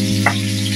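Milkfish frying in a pan of hot oil gives a steady, close sizzle over a low electrical hum, with a brief brighter crackle partway through.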